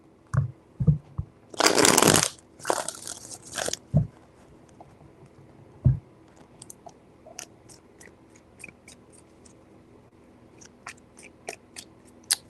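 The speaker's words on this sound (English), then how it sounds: "Three shuffles." Tarot cards are shuffled by hand in a few quick riffling bursts, close and crisp, followed by soft taps and light clicks as the deck is handled, with no talking.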